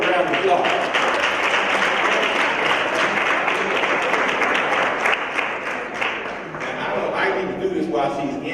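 Students at an early-morning school event give themselves a sustained round of applause, dense and steady throughout, with voices mixed into the clapping.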